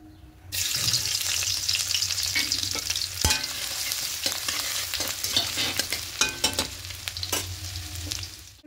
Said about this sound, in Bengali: প্রথমেই দেব আদা আর রসুন কুচিটা।